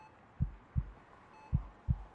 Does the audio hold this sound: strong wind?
no